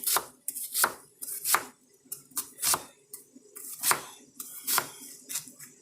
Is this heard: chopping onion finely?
yes